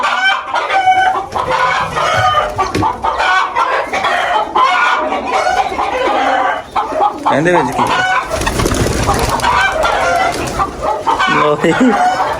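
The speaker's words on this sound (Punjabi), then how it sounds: "ਇਹਦੇ ਦੂਸਰੀ ਮੁਰਗੀ ਬੈਠੀ ਹੋਈ ਹੈ" Loud hens cluck and squawk close by, almost without pause, with a brief spoken remark mixed in.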